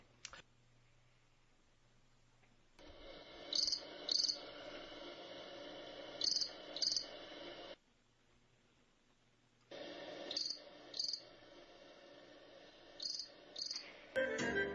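Crickets chirp in two long stretches of rapid, pulsing trills separated by quiet gaps, fairly faint and steady, with no voices.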